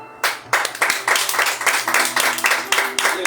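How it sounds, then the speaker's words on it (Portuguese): A Pentecostal church congregation claps to praise the Lord in a service, loud rhythmic unison claps at a steady beat of about three per second, with a sustained tone and voices underneath. "Então aplauda o Senhor"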